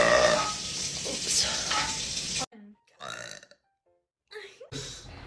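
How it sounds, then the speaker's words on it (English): A girl burps loudly for about two seconds, followed by a few short, quieter bursts separated by silence. "It's not a very good burp."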